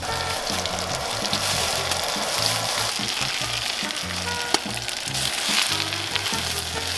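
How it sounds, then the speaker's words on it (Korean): Green onions and vegetables stir-frying in oil over a strong flame on a camping burner at a riverside car-camping spot, a loud dense sizzle with steady crackle and a low burner rumble underneath, no voices. "파가 좀 이렇게 노릇노릇 터질 때 요- 럴 때까지 좀 볶아주세요"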